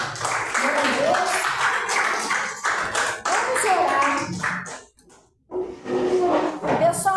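A church congregation claps and cheers loudly for several seconds, dropping briefly to near silence before the applause picks up again.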